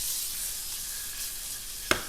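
A burger patty sears in a hot pan of oil and butter, giving a steady, close hiss of sizzling with a single sharp click near the end.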